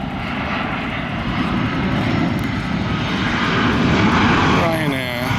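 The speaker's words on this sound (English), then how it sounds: "it always fascinates me watching these aeroplanes coming into land." A fixed-wing aeroplane comes in to land and its engine gives a steady, loud roar that swells slightly toward the end. A voice is heard faintly alongside.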